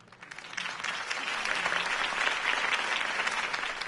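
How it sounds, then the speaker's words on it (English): Crowd applause fills the air after a political campaign speech, a dense, steady wash of clapping that rises quickly and holds loud and even throughout, with no talk over it. "If only Mr. Wayne, my campaign's largest backer, could have heard that applause"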